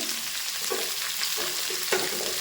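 Garlic and onion fry in a pan with a steady bright sizzle, broken by a few louder crackling bursts as the food is stirred or shifted; no voices.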